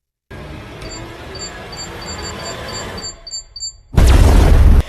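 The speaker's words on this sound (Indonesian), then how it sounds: "Del Reigo sendiri tewas oleh bom otomatis saat dirinya akan mengambil senjata." An automatic bomb in the Hitman: Agent 47 film gives a rapid series of high electronic beeps over a low hum, then goes off in a sudden, very loud, close blast that roars to the end.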